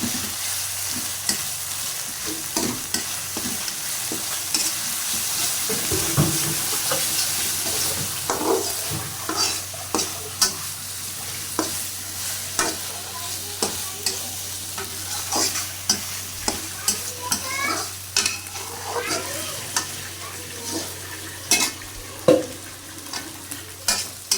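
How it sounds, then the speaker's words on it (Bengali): Chicken curry with spices and new potatoes frying in a pan, a loud continuous sizzle broken by frequent sharp scrapes and knocks of a spoon stirring, close up and without talk. "এখন ভালো করে মশলা দিয়ে ভেজে নিব"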